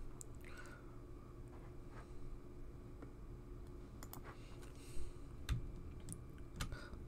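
Computer keyboard keys pressed during an office software setup, a few sparse, faint clicks and taps against a low steady hum, with no one talking.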